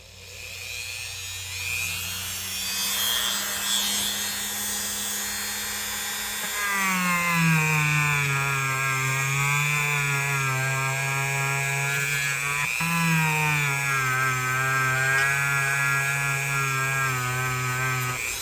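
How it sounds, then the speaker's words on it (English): A vintage RIC-NOR electrician's knife blade is polished with rubbing compound on a motorized polisher, producing a steady loud whine whose pitch drops as the blade is pressed in, with brief easing and re-pressing partway through. "So let's get to work on these blades and see what we can do. Go back or continue to use this rubbing compound."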